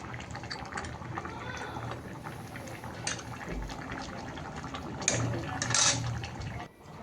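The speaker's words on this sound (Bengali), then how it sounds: "আর এদিকে চাল ধুয়ে রাখছি" Rice being washed in water, with continuous close sloshing, swirling and trickling, a few splashier bursts toward the end before it stops abruptly.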